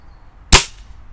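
A single sharp, loud shot from an SMK Synergy Supergrade B19 air rifle rings out, a crisp metallic crack that decays quickly into quiet.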